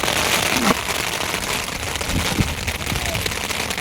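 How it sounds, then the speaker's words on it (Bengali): Heavy rain pours onto umbrellas held over people sitting in a boat, making a dense, loud, continuous patter with occasional sharper drops close by. "দেখো কত জোরে বৃষ্টি হচ্ছে, আবার শুনতে পাচ্ছ?"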